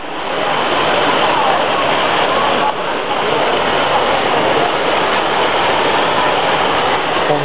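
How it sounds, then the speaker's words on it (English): Water pours and splashes at the Trevi Fountain in Rome, making a loud, steady rush that fills the whole clip without a break. "Fontana Di Trevi."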